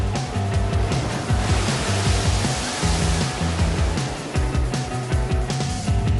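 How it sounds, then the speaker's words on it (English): Ocean waves break close to shore in a continuous loud roar of churning surf and rushing foam, with no voices over it. "Especially close to shore, where the waves are breaking."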